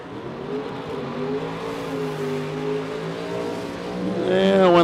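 Chevy Nova and Cavalier drag racing cars at a Super Pro race, engines droning steadily then climbing into a louder rising rev near the end, with a commentator talking over them.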